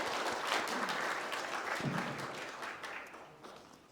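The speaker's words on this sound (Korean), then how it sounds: "나오실 때 큰 박수로 맞이해 주시기 바랍니다" A large audience at the 90th Shared Growth Forum gives dense, sustained applause to welcome a speaker, a full wash of clapping that gradually fades in the final second.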